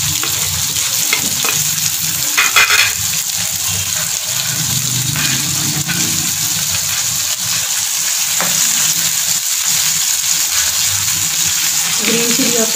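Spices, onion, tomato, green chilies and leafy chilies frying in ghee or oil over a low flame, giving a steady close sizzle with stirring clatter throughout and a few brief scrapes of the spoon.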